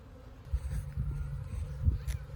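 Honey bees buzz low and steadily around an overwintering beehive outdoors in late February, a continuous drone with a few brief louder swells as insects pass close.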